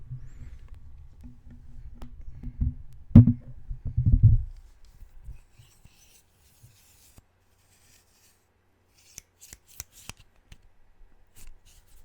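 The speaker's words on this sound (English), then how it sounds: "It's an extendable marshmallow roaster that I got at an awesome place called Knoebels from the trading post there a while back" An extendable marshmallow roaster is handled up close, with soft rubbing and metallic scraping clustered in the first few seconds, then faint scattered clicks and taps in near silence.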